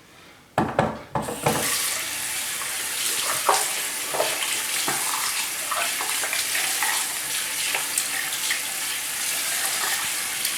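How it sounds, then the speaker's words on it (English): Water running through soapy hair during a rinse with natural handmade bar soap, a continuous close hiss and splash after a few brief bursts at the start. "you rinse it quickly by rubbing the hair, so that the water goes through the hair and clean the scalp"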